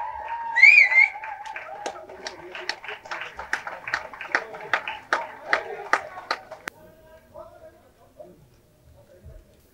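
At a Tamil movie audio launch, the crowd breaks into scattered, sharp claps mixed with music and a voice over a loudspeaker, the clapping thinning out and fading toward the end.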